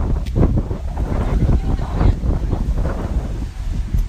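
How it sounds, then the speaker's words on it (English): Wind buffets a microphone outdoors at a street press event in Kingston, New York, producing a steady low rumbling roar with gusty swells and no clear talk. "oh, the wind's coming in too"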